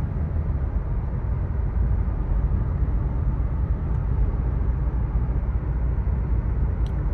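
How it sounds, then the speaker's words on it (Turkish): A steady, muffled engine drone and road rumble fill the cabin of a moving 2024 Dacia Duster 1.3 Turbo 150 hp automatic, with no talking. "Dinleyin aracı."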